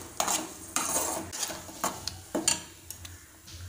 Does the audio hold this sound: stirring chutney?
yes